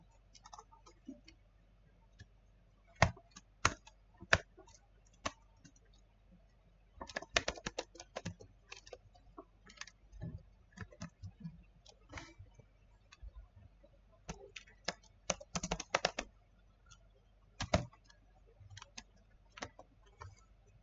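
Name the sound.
typing on a computer keyboard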